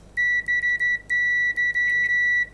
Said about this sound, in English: I'm going to make some beep tests